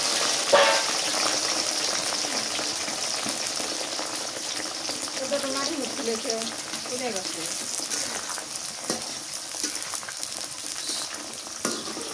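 Okra (bhindi) fries in hot oil in a pan, giving a steady, soft sizzle that runs the whole time. A few clinks and stirring scrapes break in, and someone speaks now and then over it.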